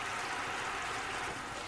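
Boiling pasta water is poured from the pot onto cream cheese, making a steady, close, rushing stream of liquid that lasts the whole short moment. No one speaks over it.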